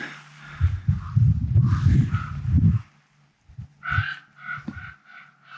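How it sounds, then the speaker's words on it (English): Ravens call from a moose gut pile in the Alaska wilds, giving several hoarse, croaking caws in the second half after a stretch of low rumbling noise, fairly close and with no talking. "That's the ravens you hear on my gut pile."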